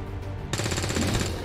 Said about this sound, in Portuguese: Vamos ver se eles vão dar tiro.